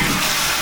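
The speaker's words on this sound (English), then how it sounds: "This is how you flush." A toilet flushing in a Beijing bar, a loud, close rush of water that fills the short moment without any talk.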